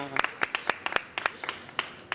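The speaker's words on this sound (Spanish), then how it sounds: "un fuerte aplauso, por favor, para David" An audience claps at a talk about mysterious Japan, a short burst of loud individual claps with a sparse, uneven rhythm, close and clear, over faint background voices.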